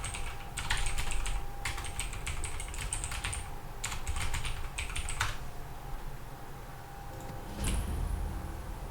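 Someone types on a computer keyboard during a modded Skyrim gaming session, producing fast clattering bursts of keystrokes broken by short pauses, fairly close and loud, with no talk.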